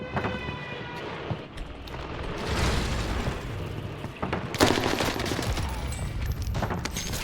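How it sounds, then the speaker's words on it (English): Airstrike in the Warzone Pacific video game: a dense fusillade of gunfire and booming explosions, loud and continuous, with sharp blasts around the middle and a distant siren-like tone. "Airstrike, ready when you are."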